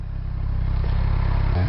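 A Kawasaki Z1000R motorcycle with an aftermarket exhaust gives a deep, muffled engine rumble that swells slightly as it pulls, loud and close during a test ride.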